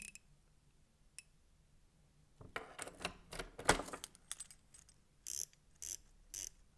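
Ratchet bezel of a genuine Invicta watch being turned, giving close, crisp clicks: quiet at first, then dense bursts of sharp ticks from mid-clip onward, with no voices.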